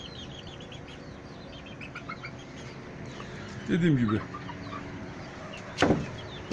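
A rooster crows once in the background while a person speaks nearby, with a faint outdoor hum underneath.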